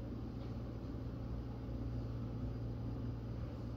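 An electric front end loader smoothing gravel on a driveway, heard as a steady low motor rumble with a dense hum that holds at an even level throughout, with no voices.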